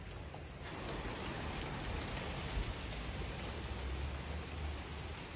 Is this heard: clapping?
no